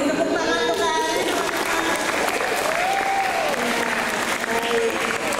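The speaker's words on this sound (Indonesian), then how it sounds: "Tepuk tangan untuk Kak Aris." Steady applause from a school seminar audience, dense and continuous throughout with a few faint voices and a whistle-like tone mixed in.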